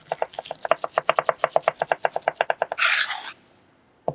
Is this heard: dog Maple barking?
no